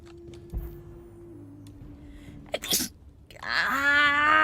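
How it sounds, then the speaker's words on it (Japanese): A man lets out a loud, close sneeze after a quiet moment, followed by a drawn-out voiced exhale as he recovers. "くしゃみが出そうだ。"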